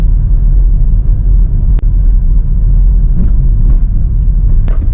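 Car engine on a road trip through Morocco near the Todra Gorge, a loud steady low rumble while driving and pulling in to park, with a few faint clicks over the drone.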